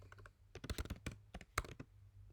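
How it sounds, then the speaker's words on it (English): Rapid typing on a computer keyboard during a Firebase web app coding session, irregular clusters of close clicks and key taps with brief pauses, no speech. "Excuse my typing."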